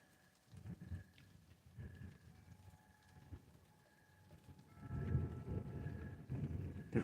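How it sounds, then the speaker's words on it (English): Light rain during a storm on the Oregon coast, a soft, steady patter that swells louder in the second half, faint and distant with low rumbling underneath. "I do hear rain."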